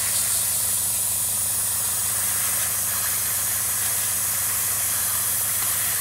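An airbrush sprays paint onto a Tamiya 1/48 Spitfire Mk.1 model, a continuous close, loud airy hiss with a low compressor hum beneath, steady throughout and free of speech.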